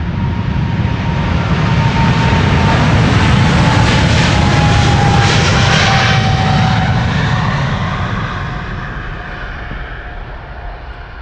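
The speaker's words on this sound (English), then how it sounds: "This is KLM flight 591 to Johannesburg, South Africa, 777-300" A KLM Boeing 777-300, twelve years old, departs Amsterdam Schiphol bound for Johannesburg, its loud jet engine roar rising to a peak in the middle and then fading slowly as the aircraft climbs away.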